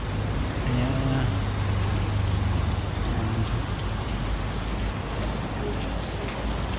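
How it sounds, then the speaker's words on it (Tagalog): Heavy rain pours down in Tagaytay, a dense, continuous hiss of drops drumming on surfaces, loud and close, with a faint low voice briefly underneath. "Ang ulan na."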